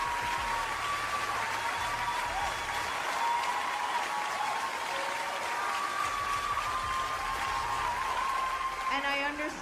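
Audience applause and cheering at a stand-up comedy show, a steady dense wash of clapping that holds at even loudness for the whole stretch, with a few voices rising above it.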